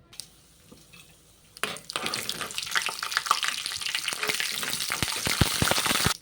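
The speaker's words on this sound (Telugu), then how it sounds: "తాలింపుకి పోపు వేస్తున్నాను." Tempering spices for Andhra-style rasam hit hot oil and start to sizzle after a quiet opening second and a half, then a dense, crackling hiss with sharp pops holds steady to the end.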